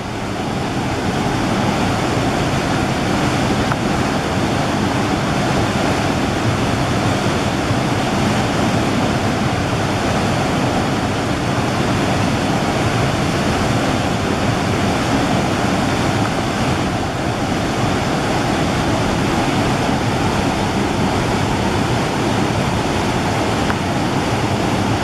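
The Menominee River rushes on a misty fall day, a steady, loud roar of tumbling water with a broad hiss that holds constant with no pauses.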